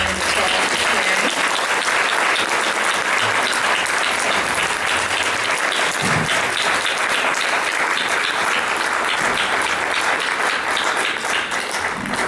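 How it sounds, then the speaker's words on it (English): A large audience at a county mental health awareness event breaks into a big round of applause, dense sustained clapping that fills the hall loudly and steadily throughout. "why don't we give you big round of applause"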